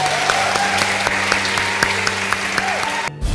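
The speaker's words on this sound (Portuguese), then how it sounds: "uma salva de palmas para todo mundo" A podcast audience breaks into steady, full applause that carries on evenly with a faint tonal hum beneath it, cutting off abruptly at the end.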